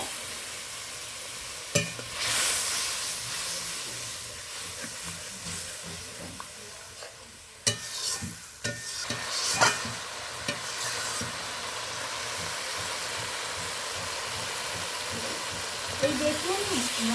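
Ground spice paste stirs and fries in oil in a pan for a spicy catla fish dish, with a continuous close hiss and sizzle broken by a few sharp stirring scrapes; no one talks.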